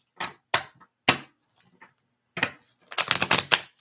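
A series of short, crisp riffling bursts, like a deck of cards being shuffled several times, with pauses between and a quick flurry at the end.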